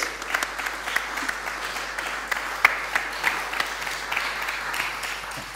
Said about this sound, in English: Give them a round of applause as they uh,